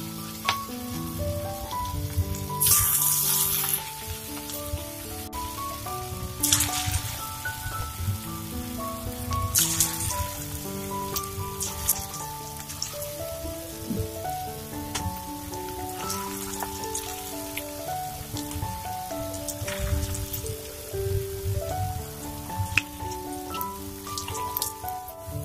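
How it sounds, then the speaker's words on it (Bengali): Cabbage pakoda batter frying in hot oil, a steady crackling sizzle like light rain throughout, with soft intermittent clicks and clatter over continuous tonal background music. "এরপর আমি মিশ্রণ থেকে অল্প অল্প নিয়ে এইভাবে তেলের মধ্যে দিয়ে দেব।"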